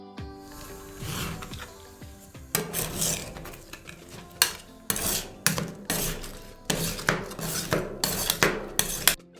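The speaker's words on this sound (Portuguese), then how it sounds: "usam espátulas de metal para esmagá-las um pouquinho" Metal spatulas scrape and press against a freezing metal ice pan in repeated bursts, with clanks and rasping strokes in an irregular rhythm.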